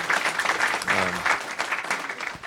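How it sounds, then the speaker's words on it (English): A conference audience at a health care policy panel applauds the panelists in a close round of clapping that stays fairly loud throughout, with a faint murmur of voices under it. "Let's begin the tradition of clapping for our fantastic panelists"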